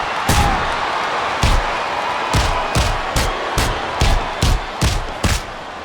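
Arena crowd in the WWE SmackDown vs Raw 2008 video game on Xbox 360, during a women's match, keeps up a steady loud roar while a series of sharp slams and thuds punch through at irregular intervals.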